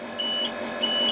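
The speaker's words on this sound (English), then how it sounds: "and you hear the warning buzzer." Two brief high-pitched electronic buzzer tones, a brake booster motor warning on a 1995 Ford dump truck, sound against a steady low engine idle, each lasting about a quarter second.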